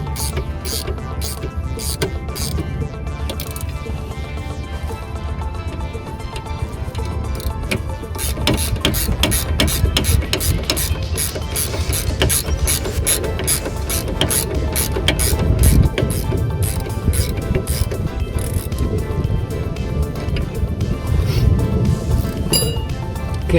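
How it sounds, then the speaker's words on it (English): A spanner works a nut on a rear brake part during a disc and pad replacement, producing a steady, rapid series of metallic ratcheting clicks and clinks, loud and close with no talking. "spanner, and then we'll start tightening this until we get it snug"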